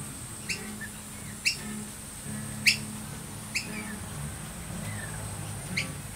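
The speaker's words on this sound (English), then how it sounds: "They call them noisy miners, but you can see they're not noisy." Noisy miner birds give a handful of short, sharp chirps spaced about a second apart, moderately near, over a low steady background hum with no talking.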